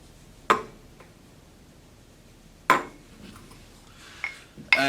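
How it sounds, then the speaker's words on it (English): Materials tipped into a mortar and pestle make sharp clinking knocks, three or four separate impacts spaced seconds apart, close and fairly loud over a quiet background. "just dump your materials into your mortar and pestle"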